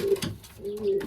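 A racing pigeon held in the hand gives two soft, drawn-out coos with a short pause between them, close by and fairly quiet.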